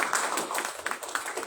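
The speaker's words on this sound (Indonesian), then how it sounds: "Boleh kita berikan tepuk tangan sekali lagi?" Clapping from an audience at a Catholic faith session, a brief burst of many hands applauding together, close and fairly loud.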